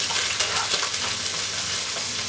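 Onions fry in a pan for a tuna bake, giving a close, dense and continuous sizzle with no talking.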